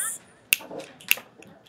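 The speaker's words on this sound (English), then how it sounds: "If you're good, give me 2 snaps." Two crisp finger snaps, sharp and close, spaced about half a second apart with a short murmur of voices between.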